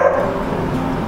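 A pet dog barking from a home at a monkey climbing nearby flats, one loud close bark or yelp filling the short moment.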